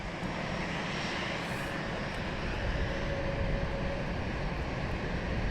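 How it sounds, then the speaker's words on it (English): An EasyJet airliner taking off at London Luton Airport, a loud, steady jet engine roar heard from a distance, broadband and sustained throughout with no talking. "We'll pan around to the EasyJet that's taking off."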